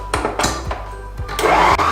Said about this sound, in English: My egg whites are half whipped